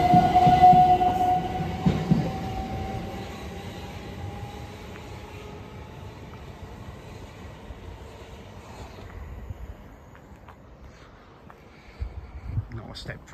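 A Class 377 electric train runs through Christ's Hospital railway station with a rolling rumble and a brief high horn tone early on, fading gradually as it moves away, while someone talks over it.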